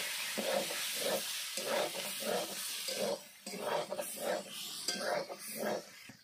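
Dried fenugreek leaves (kasuri methi) hit hot oil in a pan while cooking a vegetarian soybean dish, giving a steady close hiss and sizzle broken by rhythmic, repeated stirring bursts.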